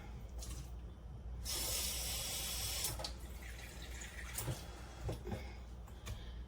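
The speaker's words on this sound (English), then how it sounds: "going to add some water." Water runs from a tap in a steady, hissing stream for a couple of seconds, followed by softer splashing and a few faint clinks nearby.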